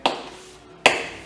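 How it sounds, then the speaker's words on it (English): Two sharp taps about three quarters of a second apart, close and fairly loud: the mounting studs of a MINI Cooper wing snapping against the edge of a hole as it is pressed in place. "Now that noise you heard was just the studs."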